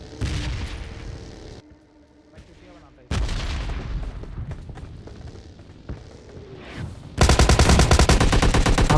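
Gunfire in the mobile battle-royale game PUBG Mobile Lite comes as scattered shots and booms, ending in a dense, loud burst of rapid automatic fire.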